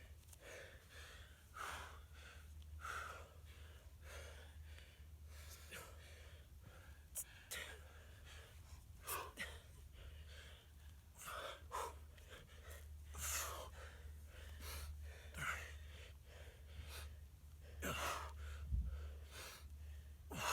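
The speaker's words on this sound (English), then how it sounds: "Just having a hell of a time breathing." Heavy, ragged breathing from a person struggling for air after exercise at altitude, with repeated gasps and sharp exhales close to the microphone throughout.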